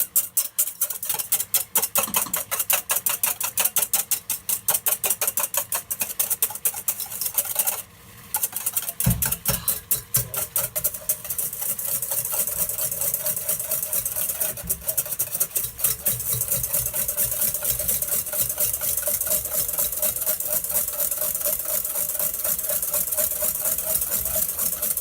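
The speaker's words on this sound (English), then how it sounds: "This is one of these kind of dishes where you really gotta not stop whisking." A whisk beats hollandaise sauce in a bowl with rapid, continuous rhythmic clicking and scraping that runs steadily and close up, with no voices.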